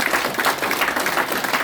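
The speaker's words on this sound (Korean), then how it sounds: "여러분이 뜨거운 힘찬 박수로 환영해 주셔야 되겠습니다" Loud, close applause from a crowd at a Korean political party merger press conference, many hands clapping in a rapid, even patter with no talking over it.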